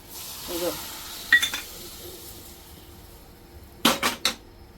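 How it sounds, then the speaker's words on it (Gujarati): Spice mix for an instant pickle hits hot oil in a pan, giving short, close hissing sizzles in a few bursts with light clatter between them. "હવે તેલ ગરમ છે એની અંદર છે ને આ મસાલો છે ને ફટાફટ નાખી લેશું"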